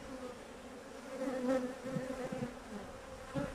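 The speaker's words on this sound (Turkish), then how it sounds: "Bayağı da çıkmış arı" Honeybees buzzing around an open beehive, a steady droning hum with individual bees swelling closer and fading, heard alone without talk.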